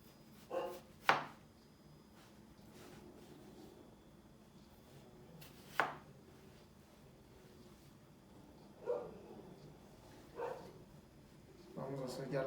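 A knife chops down through a peeled potato on a cutting board, slicing it lengthwise into sticks, with a few sharp, separate thuds spaced a few seconds apart over a quiet background.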